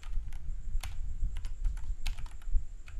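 Typing on a computer keyboard to name a new folder: a quick, close run of light key clicks, uneven in rhythm, with no talk.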